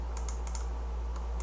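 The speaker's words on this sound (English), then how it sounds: "Somebody's typing" Someone typing on a computer keyboard, a few quick light key clicks in short bursts over a steady low hum, fairly quiet and with no talk.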